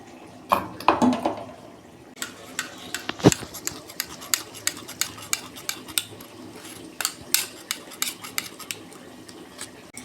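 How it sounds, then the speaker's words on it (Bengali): Mustard paste being strained for a hilsa fish curry, with metal utensils clinking and scraping against a bowl in an irregular run of taps and a faint wet sieving sound. "সর্ষেটা পেস্ট করে রেখেছিলাম তো, আমি ছেঁকে দেবো।"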